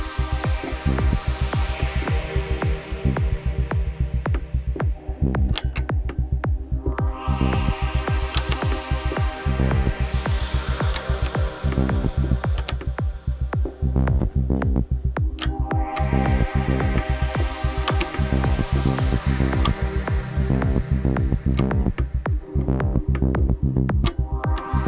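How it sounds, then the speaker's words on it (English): Synthesizer sequence played through an Elektron Octatrack, with the filter cutoff automated so the tone repeatedly sweeps open and closed in a rhythmic, pulsing loop, loud and continuous with no talking. "We are going to automate in here the cutoff as well."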